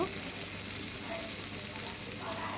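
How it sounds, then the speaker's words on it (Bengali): Mustard paste and green chillies fry in oil for a tel koi fish curry, giving a steady, close hiss of sizzling with faint stirring, no voices. "সর্ষে বাটা আর কাঁচা লঙ্কা এই মশলাগুলো দিয়ে আমি ভালো করে কষিয়ে নিব"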